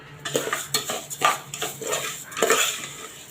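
Broken wheat being roasted in ghee in a pan, with repeated scraping and clinking strokes of a spoon against the metal vessel at an irregular rhythm, close and moderately loud, with no voices.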